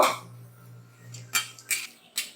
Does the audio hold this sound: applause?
no